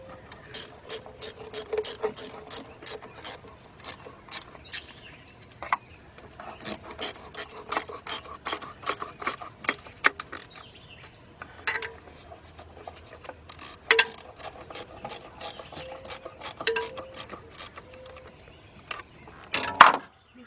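A 10mm ratchet works loose the valve cover bolts on a 1997 Buick LeSabre engine, giving close, repeated bursts of rasping clicks with short pauses between strokes.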